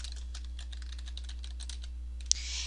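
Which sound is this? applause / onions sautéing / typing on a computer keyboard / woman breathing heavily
typing on a computer keyboard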